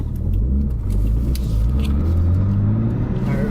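An RB25-engined car accelerates hard, its engine note climbing through a loud, close rumble with rising tones and a brief dip, as if between gears, before building again.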